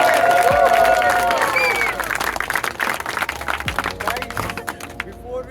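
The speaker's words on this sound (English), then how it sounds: "Can we all have a huge round of applause?" Audience applause at a real estate event, loud sustained clapping from a crowd that thins out toward the end, with voices mixed in.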